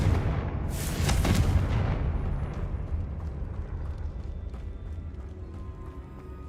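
A Confringo fire spell exploding in Hogwarts Legacy, a loud, sudden blast with a crackling burst that decays into a long rumbling tail.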